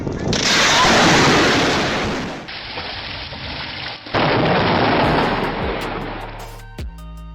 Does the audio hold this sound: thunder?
yes